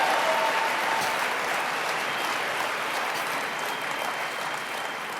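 Loud, sustained applause from a crowd at a motivational speaking event, dense clapping filling the whole stretch at a steady level and easing only slightly toward the end.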